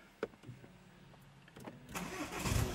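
A few clicks, then a 2017 Ford Focus ST 2-litre diesel engine cranks and catches, rising into a steady running rumble near the end.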